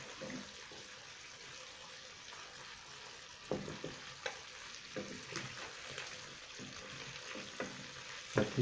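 Barari fish frying in a pan, a faint steady hiss of hot oil with occasional soft pops and scrapes as the pieces are turned, quiet and close with no voices.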